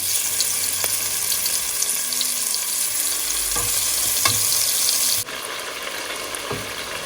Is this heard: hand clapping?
no